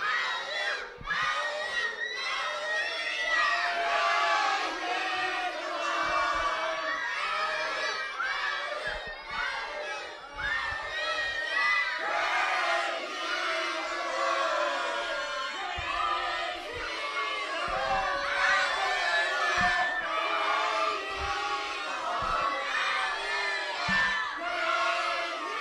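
A crowd of children at a church vacation Bible school shouting hallelujah loudly together, sustained, dense group yelling that fills the whole stretch.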